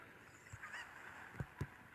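Two short honking squawks from a cucco chicken in the Zelda: Ocarina of Time video game, spaced close together late in the moment, with a fainter earlier squawk over steady low game background.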